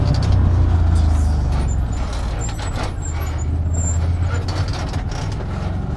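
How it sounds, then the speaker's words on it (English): Brakes on a Can-Am Commander off-road vehicle give thin, high intermittent squeals over a loud, steady engine rumble while crawling over slick rock trail near Moab. "The brakes are starting to squeal a little bit"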